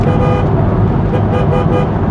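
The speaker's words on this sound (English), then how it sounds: "Yep, horn works." Horn of a 2000 Chevrolet C5 Corvette FRC sounding from inside the moving car, a sustained loud tone over road and engine noise.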